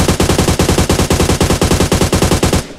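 Rapid automatic gunfire in a battle royale video game, a loud, close, evenly spaced burst of roughly two dozen shots that ends abruptly, with no talk over it.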